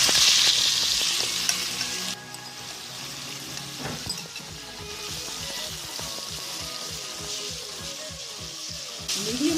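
Chicken sizzles and crackles in a hot pan with golden garlic, loud and close, with a sudden burst of frying as pieces go in and occasional stirring.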